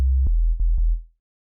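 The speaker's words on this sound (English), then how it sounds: "we're going to start with just a sine wave" A plain sine wave from Ableton Live's Operator synth set to one voice plays as a single deep, steady bass tone for about a second, then fades out smoothly through its release with a few soft clicks.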